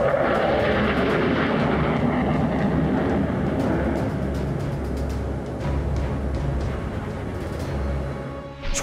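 An F-111 swing-wing fighter-bomber roars past as a loud, steady jet-engine rush that holds for about nine seconds, with no voices over it.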